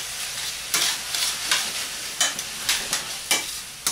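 Chicken stock hits a hot pan beside pork chops and cremini mushrooms, giving a broad hiss in repeated bursts of sizzle and stirring, each spike fading back to a steady crackle with no talking.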